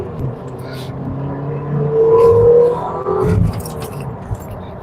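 A car accelerates from inside the cabin, its engine rising in pitch to a brief peak before easing off, with a clink like keys and some faint background bustle.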